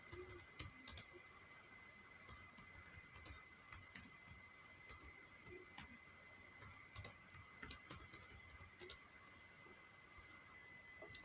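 Computer keyboard typing while entering advertisement text for a scrolling crawler in Premiere Pro, heard as quiet, irregular clicky keystrokes alone, with a faint steady hum underneath.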